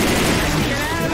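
Rapid gunfire in the co-op zombie shooter Left 4 Dead 2, a dense, loud, continuous burst of overlapping shots filling the whole moment, with player voices mixed in.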